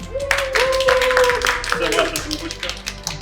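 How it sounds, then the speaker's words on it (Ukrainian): A group claps for a participant at a tactical medicine training session, with brief, scattered applause mixed with people talking nearby. "Аплодисменти Олександру"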